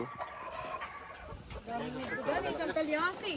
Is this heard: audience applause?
no